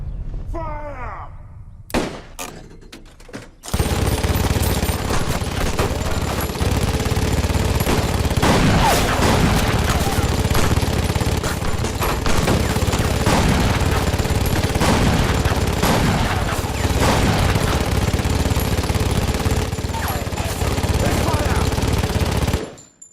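Movie battle-scene gunfire erupts after a brief quiet opening, with sustained loud bursts of automatic weapons and scattered shots over nearly twenty seconds, dense and relentless, with voices faintly mixed in before it cuts off.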